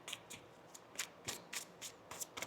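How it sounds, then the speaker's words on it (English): A tarot card deck is shuffled by hand, a series of crisp riffling bursts and soft card slaps in an irregular rhythm, close and fairly quiet, with no talking. "One more shuffle."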